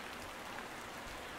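Steady rain falls in a Roblox game, a faint, even hiss of drops with no voices over it.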